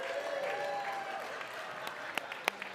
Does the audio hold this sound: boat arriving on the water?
no